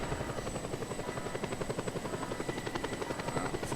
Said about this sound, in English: Now that I'm in the helicopter looking at it